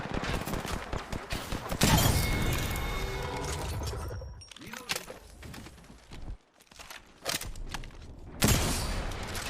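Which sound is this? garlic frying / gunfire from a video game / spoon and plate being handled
gunfire from a video game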